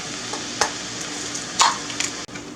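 Ground beef sizzles in a pan while cream of mushroom soup is stirred in, giving a constant frying hiss broken by a few scraping, clacking utensil strokes close by.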